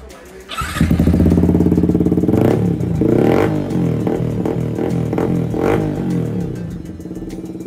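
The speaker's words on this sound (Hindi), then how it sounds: "फुल एग्जॉस्ट सिस्टम यहाँ पर लग चुका है, एससी का साउंड सुनाया था मैं आपको।" Yamaha MT-15 motorcycle fitted with an SC Project full exhaust system, starting up and revving close by: a loud, raspy engine note rising in several throttle blips over a steady idle.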